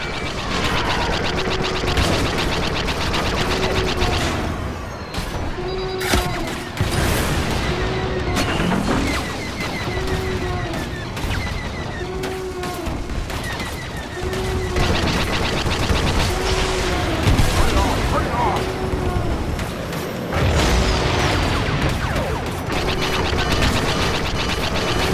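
Starfighter weapons in Star Wars Battlefront II pound an enemy reactor: a dense, unbroken barrage of blaster fire and booming impacts over a roaring engine and battle din, loud and without pause.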